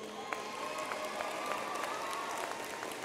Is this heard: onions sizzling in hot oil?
no